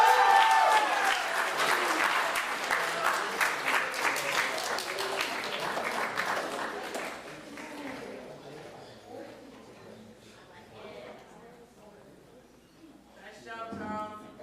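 Loud applause from an awards ceremony audience, dense clapping that gradually thins and fades over several seconds before a brief renewed burst of claps near the end.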